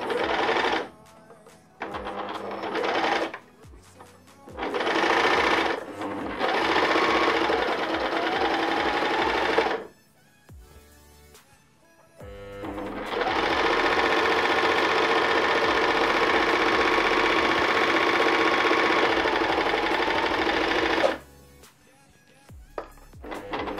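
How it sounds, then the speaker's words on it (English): Overlocker stitching fabric for a mermaid tail, running in several bursts of steady rapid mechanical whirring, with a long continuous run in the middle and short pauses between passes. "I'm going to take the overlocker and take it off there and then start again"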